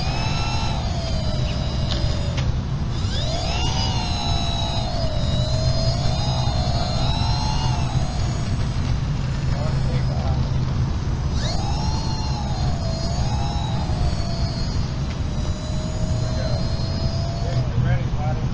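A radio-controlled airplane's small engine takes off, its buzzing whine holding steady and then swooping up and down in pitch as it climbs and passes overhead, with light talk and outdoor noise underneath.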